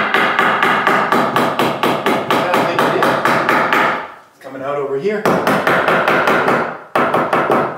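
Wood flooring boards are tapped into place with a hammer on a homestead library build, giving steady rapid sharp knocks in close bursts, with a brief pause where a person speaks, then more quick tapping.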